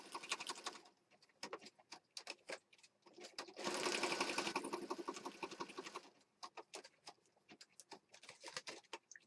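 A sewing machine stitches pages of a pink and black junk journal in short rapid bursts and one longer steady run, the mechanism ticking and pattering at close range.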